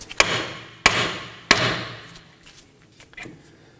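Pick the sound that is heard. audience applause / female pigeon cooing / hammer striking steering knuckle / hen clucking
hammer striking steering knuckle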